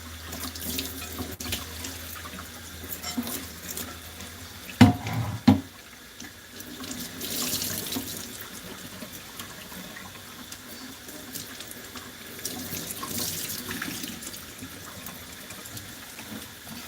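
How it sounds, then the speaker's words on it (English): Tap water runs steadily into a sink while a pan or skillet is rinsed, with a couple of sharp knocks partway through and a continuous gushing wash throughout. "Now I'll take water and nicely go over it one more time."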